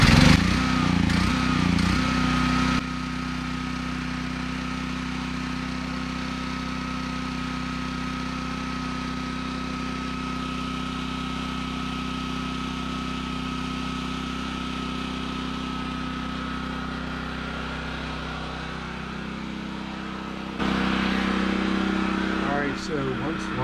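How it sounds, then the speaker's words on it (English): A Generac portable generator engine runs at a steady, loud, droning idle for about twenty seconds, with someone talking briefly at the start and again near the end. "Once the generator is running"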